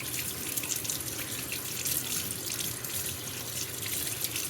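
A paint spray nozzle is rinsed under a running tap, producing a steady, close splash and hiss of water with no break.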